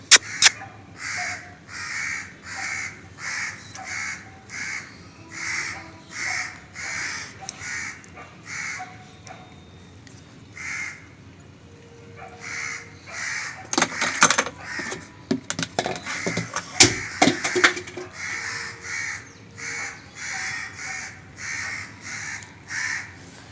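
A flock of crows caws loudly and repeatedly in the morning, with steady rhythmic bursts of calls throughout and a brief stretch of harsher, noisier commotion in the middle.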